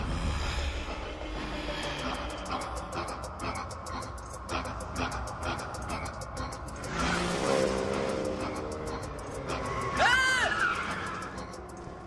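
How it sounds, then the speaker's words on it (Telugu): A car sets off and drives away in a film scene, its engine noise steady and fairly loud, with a rising whine and rapid clicking layered over a dense mix of movie sound. "కార్ బయలుదేరింది."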